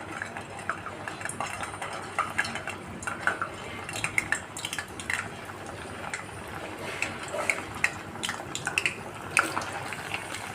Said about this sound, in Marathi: तेल व्यवस्थित गरम झाले आता थोड्या थोड्या करून आपण यामध्ये बट्ट्या सोडून घेऊया